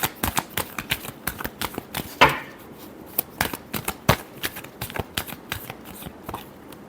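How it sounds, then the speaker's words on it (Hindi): Tarot cards being shuffled by hand in a quick series of crisp riffling and slapping bursts with brief pauses between them, close and fairly loud, with no voice. "Last shuffle."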